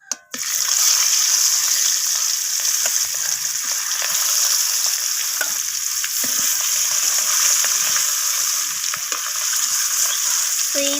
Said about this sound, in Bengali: তো এরপর আমি কড়াইয়ের মধ্যে বাকি মাছগুলোকেও দিয়ে দেব।